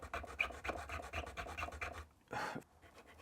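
A fine nut file rasps rhythmically back and forth, cutting a string slot into a bone guitar nut during an Epiphone Sheraton restoration, with close, repeated strokes that pause briefly before a last longer pass.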